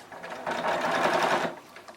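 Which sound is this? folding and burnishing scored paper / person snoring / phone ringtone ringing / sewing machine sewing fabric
sewing machine sewing fabric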